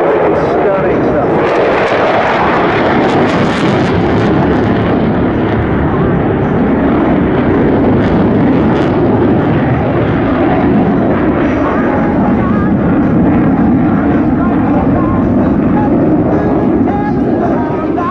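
A jet performing a flying display at Bournemouth Air Festival, its engine in reheat through a high-G vertical pull, delivering a loud, continuous broadband roar that persists for the whole stretch.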